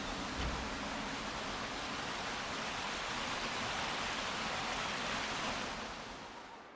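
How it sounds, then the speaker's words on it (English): Steady rushing water in the video game ICO, a dense broadband roar that holds evenly for several seconds before easing slightly at the end, with no voices. "in this next area, you can hear the water rushing again."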